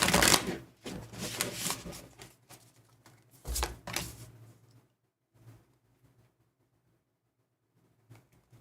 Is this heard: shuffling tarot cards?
yes